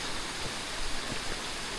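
A river flowing steadily outdoors in Sorsogon, a soft, even rush of water that stays quiet and continuous throughout.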